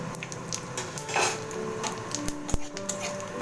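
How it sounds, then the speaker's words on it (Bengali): Dry chilli, cumin, bay leaves and whole spices are stirred in a pan, with soft scraping and light clinks of the utensil against metal, punctuated by a couple of sharper knocks, close up. "ফোড়নটা ভালো করে নাড়াচাড়া করে নিয়ে"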